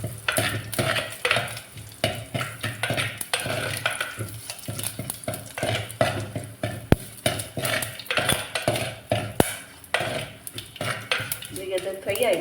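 Cut dry red chilli fries in hot oil for a ripe mango saaru, a steady close sizzle broken by frequent clattering of a spoon against the pan throughout.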